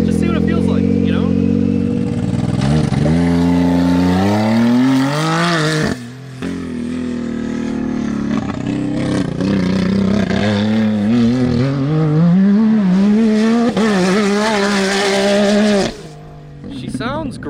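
A side-by-side off-roader swapped with a Hellcat Demon engine climbs through its revs on dirt, with loud repeated rising pulls and brief drops at gear changes, and voices talking alongside.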